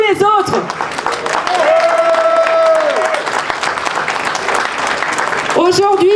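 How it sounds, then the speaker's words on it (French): Loud applause from a crowd at a union rally in northern France, cheering workers facing layoffs, sustained over roughly five seconds, with a voice talking over it at the start and end and a brief whistle-like tone in the middle. "Nous vous demandons d'applaudir les salariés d'Auchan, de Pimki, d'Outinor, d'Exid, d'Etam et tous les autres"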